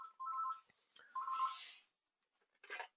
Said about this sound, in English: Just have a phone making noise here.